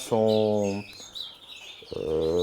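Caged canaries chirp and trill in bright, rapid bursts, close by, while someone speaks French over them and the birds fall briefly quieter between phrases.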